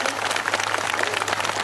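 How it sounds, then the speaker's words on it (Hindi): A crowd at a 2013 tribal rally of the Janjati Suraksha Manch in Surguja applauds to welcome the guests: dense, steady clapping that holds at an even level throughout. "कृपया जोरदार ताली बजाकर एक बार सभी स्वागत करेंगे।"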